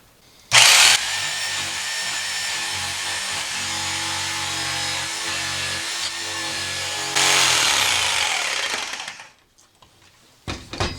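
Handheld jigsaw cuts through wood for a sword handle, a loud continuous buzzing rasp for several seconds that surges briefly louder, then winds down to quiet with a few small clatters.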